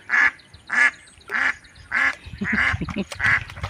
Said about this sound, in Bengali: পাণ্ডু বাবা সাঁতরা হাঁস চলে যাচ্ছে